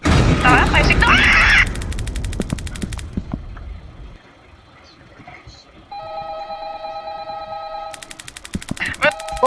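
A telephone rings in a Simpsons horror video game, a steady electronic ring in a repeating pattern that follows a burst of loud rapid gunfire-like noise, with voices in the background.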